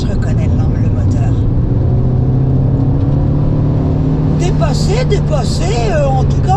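A Lancia Delta Evo engine hums steadily from inside the moving car, with a continuous low drone under a person talking throughout.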